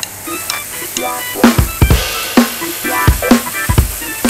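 Beef frying in butter in a pan already used for mushrooms and onion: a steady close hiss of sizzling with repeated sharp crackles and spatters, with no talking.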